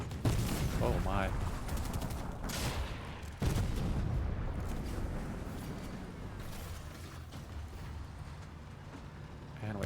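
Tank gunfire in Fortnite, with heavy booming bursts and rattling shots over continuous battle noise, loud and dense, while a person talks now and then.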